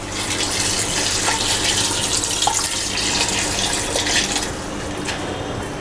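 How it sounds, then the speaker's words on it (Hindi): Water is poured into a cooking pot of mutton kunna made in desi ghee, a continuous close splashing gush that runs steadily for several seconds with no talking. "अब हम इसके अंदर पानी ऐड कर देंगे।"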